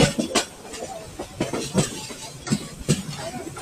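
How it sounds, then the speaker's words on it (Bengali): The Chattala Express of Bangladesh Railway rolls into Bhairab railway junction, heard from on board. Wheels give rhythmic clattering knocks over a steady rumble. "আমরা ভৈরব রেলওয়ে জংশন প্রবেশ করলাম।"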